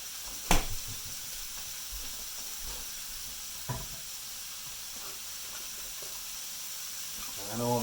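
Vegetables for a souped-up Hamburger Helper cooking in a pan, giving a steady broadband sizzle with a couple of sharp utensil knocks and a brief louder bubbling surge at the end.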